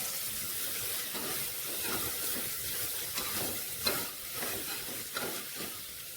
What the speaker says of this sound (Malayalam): ഇതിലേക്ക് ഞാൻ മീഡിയം സൈസ് 2 സവാള ചെറുതായിട്ട് അരിഞ്ഞത് ഇട്ട് കൊടുത്ത് വഴറ്റാം.